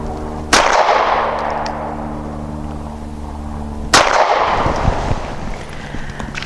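Two sharp, loud pistol shots from a Mossberg MC1SC compact handgun firing 100-grain hollow point rounds, each followed by a long ringing echo at an outdoor range, spaced about three seconds apart.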